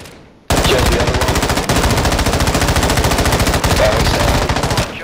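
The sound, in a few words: gunfire in the Call of Duty video game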